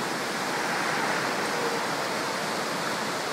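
A sizable river flows into Lake Spiez in the Swiss Alps, heard from a bridge as a loud, steady, broad rushing roar with no pauses.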